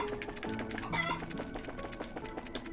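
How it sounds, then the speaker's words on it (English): A chicken clucks repeatedly in Trails in the Sky – Second Chapter, short choppy calls over a busy musical game soundtrack, moderately loud and with no talking. "Chicken!"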